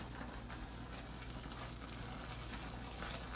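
Butter melting in a pot on the stove for homemade peanut brittle while being stirred with a spoon, a faint, dense, even sizzle and hiss with little distinct scraping, heard alone.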